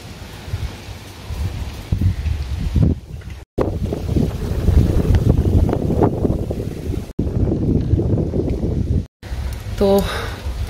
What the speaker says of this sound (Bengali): বেশ একটা ফুরফুরে হাওয়াও আছে